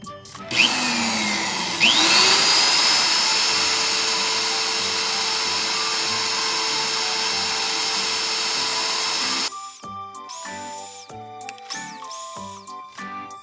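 A drill bores into the center of a rust-snapped bolt on a Suzuki Jimny, a loud, steady whine running for about nine seconds after a brief start, then stopping, followed by scattered clinks and handling noises.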